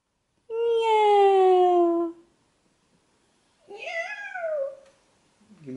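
A young child imitates a cat, giving two drawn-out, wavering meows separated by a short pause, close and clear with no other sounds around them.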